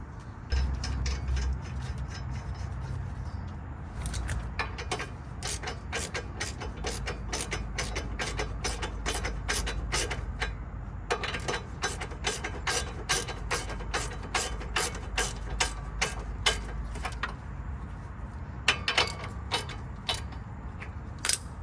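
A hand ratchet clicks rapidly and repeatedly while tightening a castle nut on the front suspension of a 2000–2006 Chevrolet Tahoe during a drop install, close and loud bursts of sharp ticks with short pauses between strokes.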